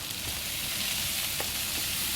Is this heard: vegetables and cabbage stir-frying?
yes